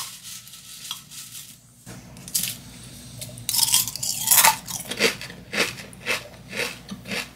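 Store-bought cornflakes being crunched and chewed close to the mouth, bursts of crisp crunching that come in uneven rhythmic chews after a quieter start, with no talking.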